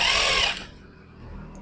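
An electric sewing machine runs a fast whirring stitch along the edge of a gents' kameez collar for about half a second, then stops, leaving a faint hum.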